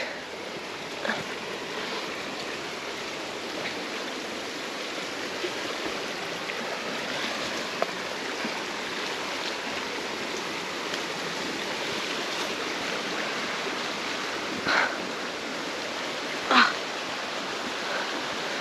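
Steady rain falls in a forest on a rainy day near an old village, a broad continuous hiss with a few louder drip taps close by, no talk.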